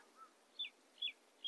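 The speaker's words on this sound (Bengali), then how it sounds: "পাখি ডাকছে" Small birds chirp among pine trees in Yousmarg valley, Kashmir, in April: three short, high, bright calls spaced about half a second apart, faint and distant over a quiet hiss.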